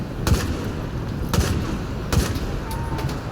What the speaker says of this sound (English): Oh, that's a nade.